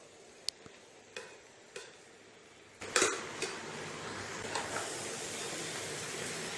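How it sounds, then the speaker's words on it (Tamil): Sweet coconut-jaggery filling is stirred in a pan, with a few scattered scrapes and clinks of a spoon on metal followed by a louder stir and a soft continuous sizzle underneath. "இந்த மாதிரி நம்ம கிளறி பூரணம் பண்ணிடலாம்."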